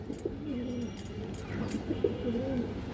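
Pigeons, including high flyers, coo in low, rolling phrases, several birds overlapping at close range with a steady murmur behind them.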